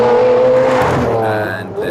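A modified Lamborghini Aventador supercar built by SB Race Engineering gives a loud, close engine howl that rises in pitch, then drops and fades in a short burst.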